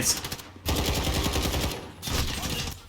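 Assault rifle gunfire in the video game Modern Warfare, two sustained automatic bursts of rapid, evenly spaced shots separated by a short pause, with a voice faintly underneath.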